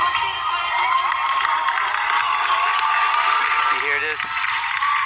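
A crowd cheers and roars without a break through a played movie scene, a dense wall of many voices over a soundtrack with sustained tones.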